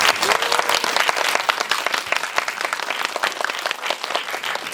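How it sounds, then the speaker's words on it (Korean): A cinema audience at a Korean film screening and Q&A breaks into loud, sustained applause, dense clapping from many hands close by that stays strong throughout. "세 분에게 다시 한번 뜨거운 박수 부탁드립니다"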